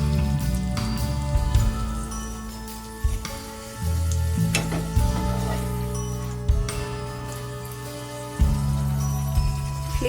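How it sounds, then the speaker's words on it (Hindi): Pre-roasted chana dal stuffed puris fry in a little hot oil in a kadhai over a high flame, a steady close sizzle and crackle with occasional sharp pops and scraping stirs. "सेकी हुई पूरियों को इसमें तलेंगे।"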